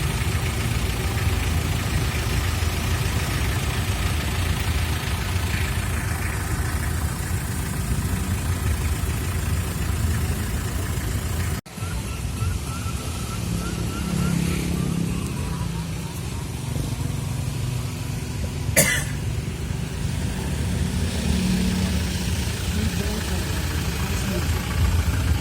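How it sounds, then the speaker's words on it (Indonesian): Traffic crawls in a heavy jam along the Pesawaran coastal road in Lampung during heavy rain, with engines idling steadily under constant rain hiss and a brief passing vehicle swell. "Macet parah sepanjang jalur pantai Pasawaran disertai hujan total."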